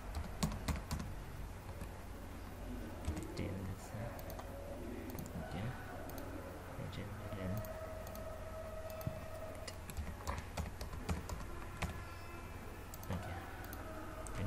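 Keystrokes clatter on a computer keyboard in a steady run of fairly quiet, close clicks, ending in a firmer press of the Enter key, with a low background hum throughout.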